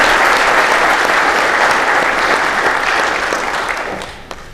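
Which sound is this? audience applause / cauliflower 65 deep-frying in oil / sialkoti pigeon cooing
audience applause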